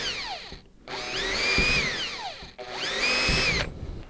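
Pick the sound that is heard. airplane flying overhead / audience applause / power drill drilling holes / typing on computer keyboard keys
power drill drilling holes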